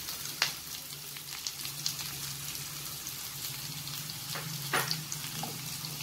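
Onions fry with garlic and ginger in a pan over a low flame, making a soft, steady sizzle broken by a few faint taps and stirs.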